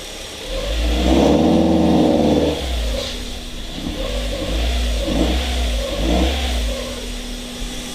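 Mazda Miata drift car engine revs hard when given gas, then falls back to an uneven idle with a few short, bogging blips, loud and close with no talking.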